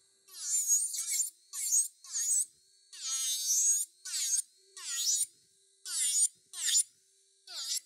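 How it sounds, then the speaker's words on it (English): A Luraco brushless nail e-file thins gel nails at the free edge, giving a high whining buzz in repeated short bursts with brief pauses between passes, close and clear with no talking. "And it's a brushless e-file"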